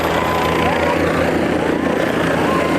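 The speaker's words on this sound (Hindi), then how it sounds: "मोहन यादव का जो हेलीकॉप्टर है वो यहाँ लैंड कर चुका है" Helicopter carrying a politician touching down at an election campaign rally site in Motihari district, Bihar, India: a loud, steady rotor and engine roar filling the whole moment, with crowd noise and voices mixed in.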